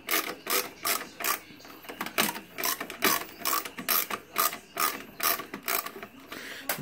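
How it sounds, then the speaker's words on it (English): Screws being backed out of a computer unit with a ratcheting screwdriver, heard as a close, steady run of rhythmic clicking bursts repeating about twice a second. "I'm gonna pull out these screws here"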